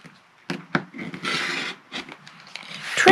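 A rotary cutter slices along a ruler to trim the edge of quilt fabric, giving a short, close scraping rasp lasting about a second amid soft handling noises.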